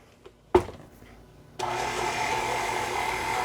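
An electric mixer starts up with a clunk and then whirs steadily while mixing pecan cookie dough with finely chopped pecans, a close continuous motor drone after a brief quiet.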